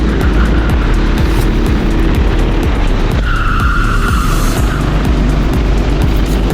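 Racing karts in a novice 80 kg class at the Granja Viana kart track, engines buzzing loudly and continuously as they pass close by, with a higher whine rising briefly midway.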